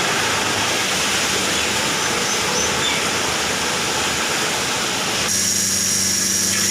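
A milking machine runs on a farm with a loud, constant rushing and mechanical hum that shifts to a thinner, buzzier tone near the end.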